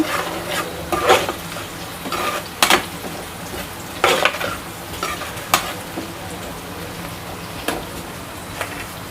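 Onions fry in a pan for an onion biryani-style curry, sizzling steadily while a spoon scrapes and clinks against the pan in irregular stirring strokes, close and fairly loud with no talk.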